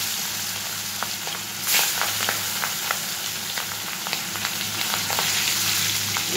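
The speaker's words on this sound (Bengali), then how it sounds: "এইবার আমি মাছগুলো একটু ভেজে নেব" Hilsa fish sizzle steadily in hot mustard oil in a pan, a close, continuous crackling fry with small pops and occasional louder spits.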